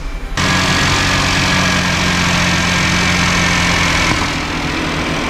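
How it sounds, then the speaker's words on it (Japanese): A Suzuki Spacia MK42S engine starts with a quick crank and catches into a steady, loud, close idle that drones on evenly, easing slightly near the end. "でエンジンかけます。"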